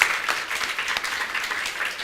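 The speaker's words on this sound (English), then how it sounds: "Can we give a round of applause one more time to these 10 wonderful speakers?" Steady applause from the audience at a middle school speech contest, a continuous patter of many hands clapping together at moderate volume.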